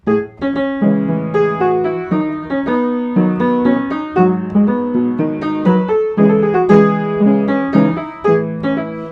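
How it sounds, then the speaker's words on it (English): A keyboard plays a steady Royal Road chord progression, each chord struck cleanly and held briefly in an even rhythm, with no voices. "I'll play it like it's a normal Royal Road progression."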